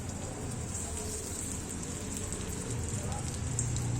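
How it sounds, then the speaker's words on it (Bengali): Dried red chilies, bay leaves and whole cumin hiss in two tablespoons of hot oil for a Bengali tempering, a steady soft sizzle with light crackles throughout, fairly close and even in level. "এবার ওর মধ্যে ফোড়ন দেব শুকনো লঙ্কা,"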